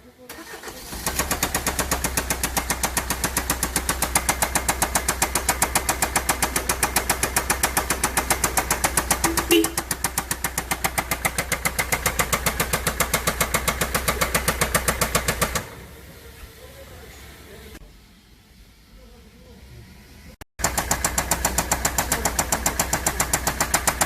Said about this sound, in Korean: 시동 켜봐 형 시동 켜봐